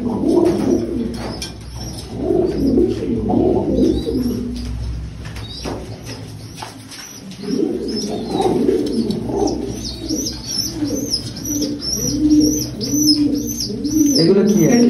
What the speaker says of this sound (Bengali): এগুলো কি টেডি পায়রা